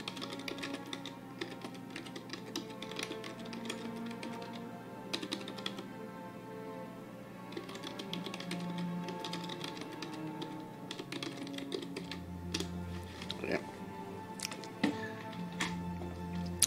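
Keys on a computer keyboard click in quick irregular runs, faint and close, with short pauses between bursts and a quiet room tone beneath.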